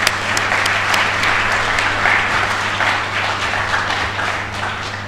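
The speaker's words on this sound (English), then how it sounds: "Shall we clap for them?" Audience at a memorial lecture in Accra applauds, a continuous, fairly loud crowd of many hands clapping evenly across five seconds over a low steady hum.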